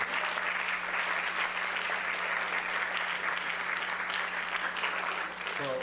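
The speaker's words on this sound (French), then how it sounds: "Vous pouvez les applaudir." An audience at a musical-comedy evening applauds steadily throughout, a dense, even wash of clapping from a full room with no speech over it.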